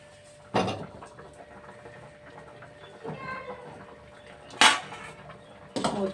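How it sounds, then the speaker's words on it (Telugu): A lid set onto a cooking pot of curry, heard as a few sharp metallic clanks spaced seconds apart over a low kitchen background hum, close and clear, with no talking. "మూత పెడుతున్నాండి."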